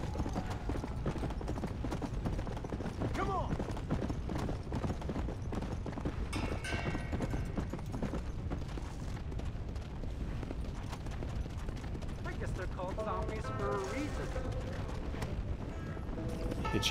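Steady horse hoofbeats clip-clop along at a walking pace in Red Dead Redemption: Undead Nightmare, beneath a busy, continuous game soundscape, with a few brief tonal effects and no talking.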